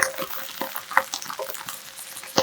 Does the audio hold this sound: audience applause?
no